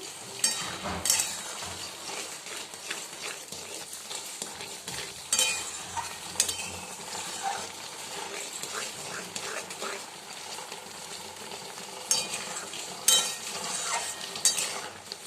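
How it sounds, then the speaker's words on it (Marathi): Semolina upma is stirred in a pan as it thickens, giving repeated close scraping strokes of a spoon over a soft sizzle, with occasional knocks against the pan. "त्याला छान असं हलवायचं जसं जसं तुम्ही हलवाल तसं तसं ते घट्ट होईल जाईल"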